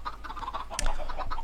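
Minecraft chickens and chicks on a semi-automatic chicken farm cluck softly in repeated short calls over a steady background hum, with one brighter clicky sound in the middle.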